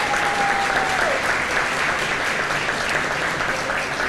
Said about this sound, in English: Give her a round of applause for me,